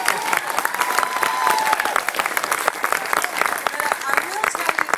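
Comedy club audience applauding at a stand-up show, a steady dense wash of clapping with some cheering that fills the whole stretch at close, even loudness.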